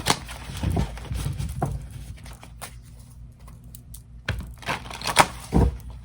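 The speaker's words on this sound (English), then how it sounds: "These are so hard to shuffle." Tarot cards riffle and slap in quick, crackly bursts close up, with pauses between handfuls and a few soft thumps as the deck is handled.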